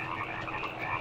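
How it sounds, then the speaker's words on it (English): Frogs croaking in the 1972 film Frogs, a dense, continuous chorus of many overlapping croaks close by, steady and loud with no talking. "These frogs won't shut the fuck up."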